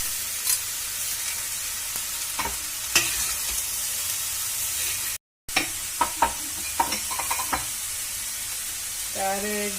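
Onions frying in a pan with a little salt added, sizzling steadily while being stirred, with scattered scraping clinks of the spoon against the pan, close and fairly loud.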